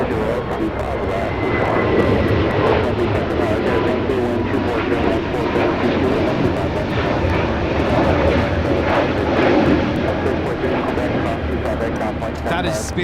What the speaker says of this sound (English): 1273 taking off to San Antonio on the A321neo